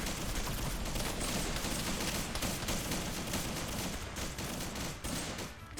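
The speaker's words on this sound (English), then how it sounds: "Ooh, napalm grenades going off." Napalm grenades and battlefield fire in a Vietnam War video game, a dense, continuous roar of bursts and crackling shots with little pause, fairly loud and busy.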